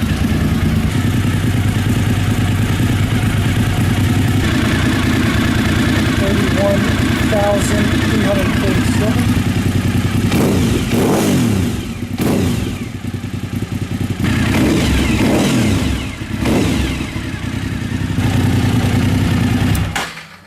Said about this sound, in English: let's see if it idles this time